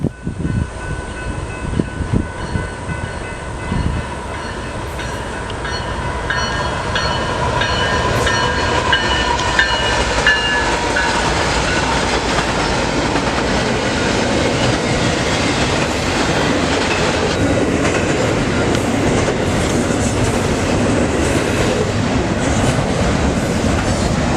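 A fast train rushes past a railroad crossing with its gates activated, building into a loud, sustained roar of wheels and rail clatter that stays close and steady to the end.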